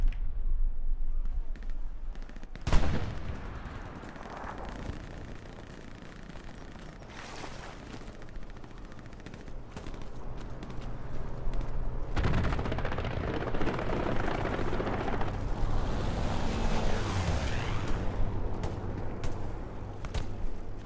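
Gunfire in a WWII video game set around a checkpoint at Sainte-Mère-Église, with a sharp shot near the start and scattered bursts and rumbling battle noise building toward the end, under a steady din.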